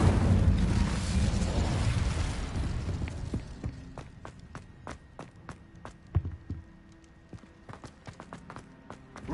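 Incendio fire spell cast in Hogwarts Legacy opens with a loud roaring fiery burst that fades over several seconds, followed by a run of sharp, rhythmic clopping hits.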